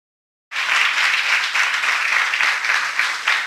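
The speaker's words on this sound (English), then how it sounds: "Let us give an applause for this team." An audience applauds a team at a spiritual presentation and evaluation session, a dense, steady wash of clapping that starts abruptly and holds at an even level throughout.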